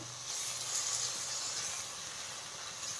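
Ground tomato sizzles as it sautés in hot oil for a paneer gravy, a steady loud hiss that holds level throughout, with no voices.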